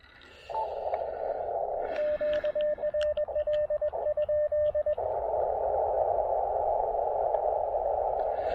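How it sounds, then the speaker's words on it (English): A ham radio receiver during a portable parks activation hisses with atmospheric static. A steady band of noise is broken by a pulsing tone, and the hiss goes on alone at the end. "That is probably actually QRN. This is probably just noisy atmospheric stuff that we're hearing"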